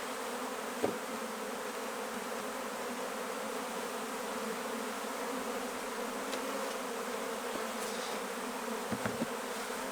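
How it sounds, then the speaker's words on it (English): Honey bees in a hive box buzz in a steady, dense drone that goes on without a break, with a few soft knocks underneath. "So the bees are in the box"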